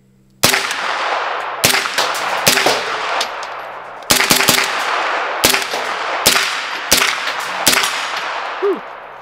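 An airsoft MP5 fires repeatedly at close range, each loud sharp report with a metallic clang, spaced irregularly about a second apart over several seconds, with no talk.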